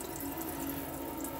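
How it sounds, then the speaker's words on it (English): Water runs steadily from an opened hot-side tap aboard an FC Compass Omega 540 caravan, a continuous close hiss and splash with no talk. "You'll come over to every tap on board the caravan, and you'll open all the taps up on the hot side of the water system."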